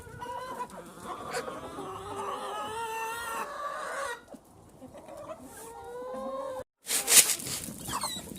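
Laying hens clucking close by in a flock with turkeys, a continuous chorus of overlapping clucks and calls, briefly dipping before a sharper, louder squawk near the end.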